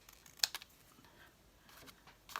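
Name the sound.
cutting paper for art journal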